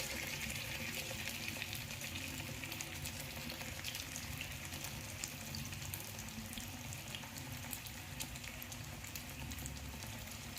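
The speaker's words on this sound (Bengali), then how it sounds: "ভালোভাবে এক পাশটা ভাজা হয়ে গেলে ওটাকে উল্টে দিয়ে আবার এই পাশটা" Malpua batter frying in hot oil over low heat, a soft, steady sizzle and bubbling that stays faint and even throughout.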